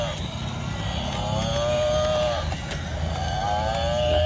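A toy purple buffalo gives a long, loud, wavering electronic moo that rises and falls repeatedly over a steady background rumble.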